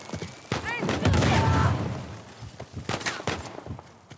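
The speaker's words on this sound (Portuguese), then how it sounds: "Olha só como é que fica mais gostoso poder dar tiro, ó." Gunfire in the video game Uncharted: Legacy of Thieves, a burst of rapid shots followed by scattered sharper reports, loud and close, while someone talks over the first part.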